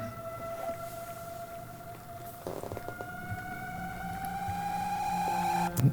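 An eerie, sustained software synthesizer pad with layered, slowly gliding pitches and a low drone, gradually swelling in intensity with a few sharp glitchy accents as heavy distortion is added.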